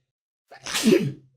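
A single close, loud sneeze: a short sharp intake followed by an explosive burst that quickly fades.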